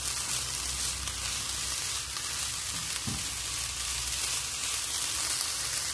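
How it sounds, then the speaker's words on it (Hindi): A hashbrown mixture frying in a pan with red chili powder, garlic powder and salt, a steady loud close sizzle with a brief low knock partway through and no talking. "ये red chilli powder, garlic powder और सॉल्ट जो है वो हमने ऐड कर दिया और थोड़ा सा इसे फ्राई करेंगे"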